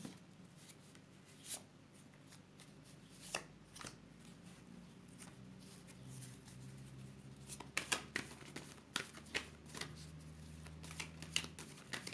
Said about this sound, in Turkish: Hemen iskambil destemden de alayım.